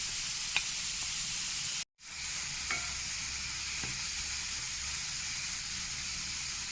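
Cabbage with chili and turmeric powder sizzles in an oiled pan while being stirred, a steady close frying hiss with a few scraping clicks and one brief break.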